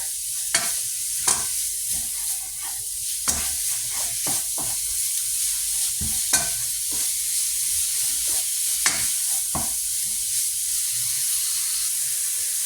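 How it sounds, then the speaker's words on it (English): Ground beef sizzles and fries steadily in a pan for homemade Hamburger Helper, with a utensil repeatedly scraping and stirring through the meat in sharp intermittent strokes; no talking. "while your beef is cooking"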